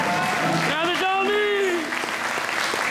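An audience at a concert in a theatre in Limena breaks into dense, steady applause, loud and continuous, while someone speaks over it on a microphone.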